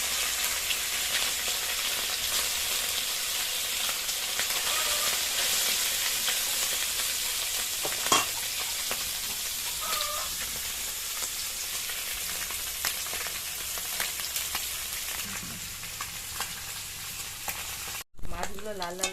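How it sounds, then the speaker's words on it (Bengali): Small mourola fish fry in hot oil in a kadai, a loud, steady close sizzle with occasional stirring clatter, continuing without speech until a brief knock near the end. "এবার তেল দিলাম, মাছগুলো দিয়ে দিলাম, সারা গরম হয়ে গেছে।"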